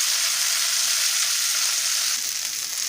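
Chopped onions with ginger and garlic fry in a pan for an egg curry, giving a steady, close, even sizzle that holds throughout without any voices.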